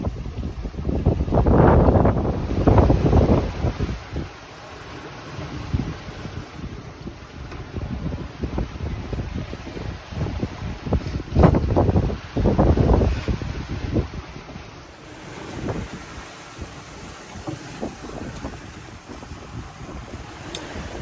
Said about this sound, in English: Waves are building.